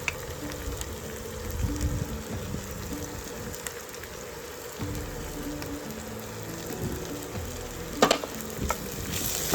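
Vegetables and garlic soften in a pot for beef stew, giving a continuous moderate sizzle with occasional scraping stirs and a brief louder clatter near the end.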